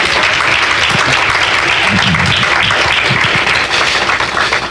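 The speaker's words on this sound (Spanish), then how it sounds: "Denle un aplauso fuerte al Señor." Loud, sustained applause from a church congregation clapping for the Lord, thick and unbroken throughout, with some voices and shouts mixed faintly in the crowd.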